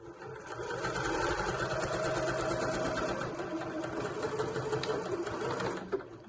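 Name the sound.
sewing machine back stitching a shopping bag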